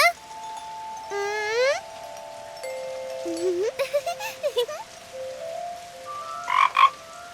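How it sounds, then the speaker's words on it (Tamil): Cartoon frog croaks, a run of bright tonal, pitch-bending calls and a quick burst of stuttering croaks, loud and close with no talk over them. "தவளை."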